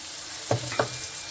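Turmeric and coriander powder frying in oil hiss softly and steadily, with two quick clinks of a spoon stirring against the pan, no voices.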